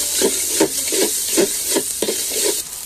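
Ginger garlic paste and biryani spice being stirred in a sizzling pot for goat mutton biryani, with steady rhythmic scraping strokes about twice a second over a constant frying hiss.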